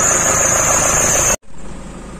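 A 2005 Toyota Hilux engine running on replacement injectors, with no more smoke from the breather: a loud, steady idling rumble with a high whine that cuts out abruptly, then continues more quietly.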